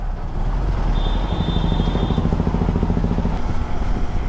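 A motorcycle rides along a road in cool weather. Its engine drones steadily and close, with a faint high whine partway through and no talking.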